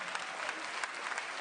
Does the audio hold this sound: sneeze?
no